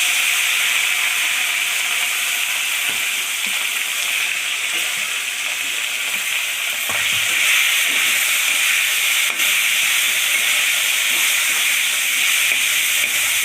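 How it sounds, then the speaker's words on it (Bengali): Boi and tengra fish fry in hot oil, giving a loud, steady sizzle and hiss that carries without pause from start to finish. "মাছ কটা একটু ভেজে নিই।"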